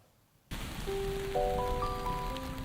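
Steady rain starts abruptly and keeps falling outdoors in Japan, a dense, even hiss of drops on the ground and surfaces. Faint tonal sounds ring out over it partway through.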